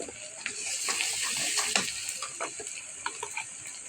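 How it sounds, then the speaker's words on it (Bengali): Spice paste for lemon pickle is sautéed in a pan, giving a bright continuous sizzle with close scraping and tapping strokes of a spoon against the pan. "মশলাটাকে আমি কষিয়ে কষে নিলাম"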